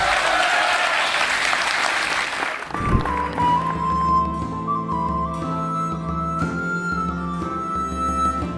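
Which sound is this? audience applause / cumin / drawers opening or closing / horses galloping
audience applause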